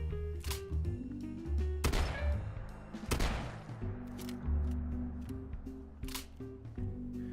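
A triple-barrel pipe shotgun in Fallout 4 fires several loud, sharp blasts spaced a second or two apart over a low, steady tonal background.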